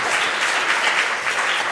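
An audience at a talk about climate measures applauds loudly and steadily, a dense wash of clapping that holds throughout with no voices standing out.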